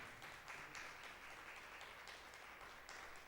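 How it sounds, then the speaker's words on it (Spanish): Congregation applauding in church during a Spanish-language sermon, steady dense clapping at a faint, distant level without pause. "Un aplauso a Jesucristo."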